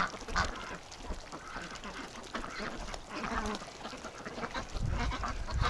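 Female breeding ducks quack loudly in repeated bursts on a cold spring day, several birds overlapping close by with some faint honking mixed in.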